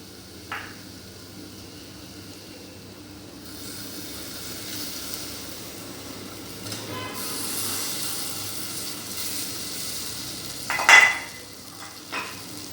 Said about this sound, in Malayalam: അപ്പം മാങ്ങയും നന്നായിട്ട് വഴറ്റി